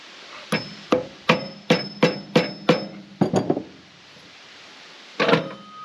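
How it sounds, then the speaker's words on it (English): Hammer blows on a part of a Woodland Mills TFG55 PTO 5-inch wood chipper: about eight steady, evenly spaced strikes, then a quick cluster of three, a pause and one more close, sharp hit. "I don't like that I'm hammering this."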